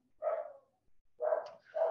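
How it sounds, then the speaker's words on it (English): A dog barks indoors at home, two or three separate woofs spread over a couple of seconds, moderately close and fairly clear against a quiet room. "So sorry about the dog barking."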